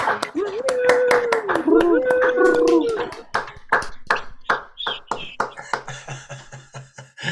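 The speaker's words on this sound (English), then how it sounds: "let's hear some real applause for everyone that came tonight" Scattered hand claps from an online playback theatre audience ring out over a group of voices and a sung tone at first, then thin out into sparse individual claps.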